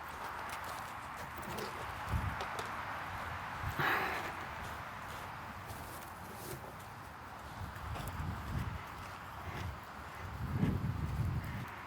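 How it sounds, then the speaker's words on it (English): Soft hoofbeats from a Standardbred horse trotting in a steady, springy rhythm, heard faintly at a distance over a constant outdoor hiss. "So this horse has a very springy trot."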